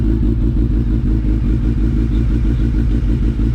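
A first-generation Suzuki Hayabusa being ridden and prepped for drag racing, its engine a loud, steady, throbbing low drone heard up close without pause.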